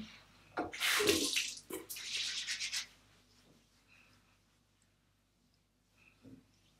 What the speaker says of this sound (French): Je vais essayer de remousser encore un petit peu pour faire un deuxième round.